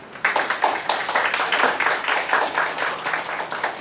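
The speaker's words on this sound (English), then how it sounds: "show our appreciation by the usual clapping hand for our guest speaker" An audience applauding a guest speaker at a university event, steady close clapping from many hands lasting several seconds.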